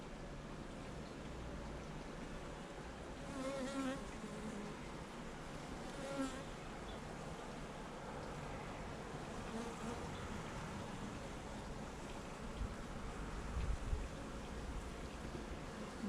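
Worker honey bees buzz steadily at the hive entrance as they bring in nectar, a dense and faint continuous hum with a few louder individual bees passing close.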